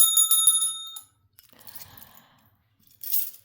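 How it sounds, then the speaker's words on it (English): A small bell rings with a bright metallic tone that rings out and decays within about a second. Scattered faint rustling follows, then a brief hiss, with no voices. "Let's ring the bell."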